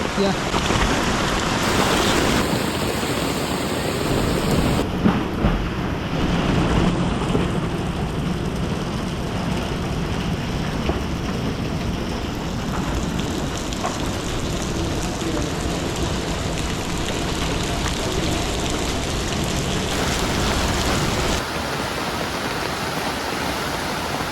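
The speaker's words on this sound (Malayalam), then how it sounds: "നല്ല മഴയാണ്, പെരുമഴയാണ്, ഒരു രക്ഷയില്ല." Steady, dense hiss of heavy rain at a beach resort in Varkala fills the whole stretch, a broad unbroken wash of noise with only slight shifts in texture.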